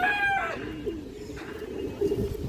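A lively high-flyer pigeon gives low rolling coos close by, with a brief higher sweeping call at the start and a louder coo near the end.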